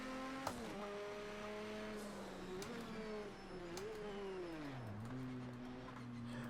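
Porsche race car engine in Project CARS 2, a loud, continuous snarl that rises and falls as the revs climb and drop through gear changes, with a brief sharp click near the start.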